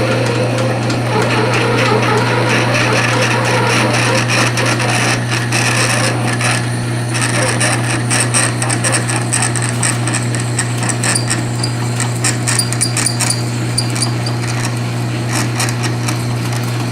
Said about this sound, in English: we're ready to drill this out, and this is relatively soft material